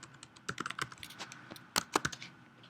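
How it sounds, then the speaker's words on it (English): Quick, uneven clatter of keys on a computer keyboard being tapped, with short bursts and pauses between strokes, close and fairly quiet with no voices. "I hit the W key on my keyboard."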